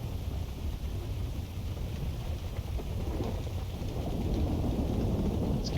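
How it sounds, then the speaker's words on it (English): Steady rain and low rumbling thunder fill the background as a continuous wash of noise, with the rumble swelling slightly toward the end. "Let's get rid of that thunder so we can hear each other."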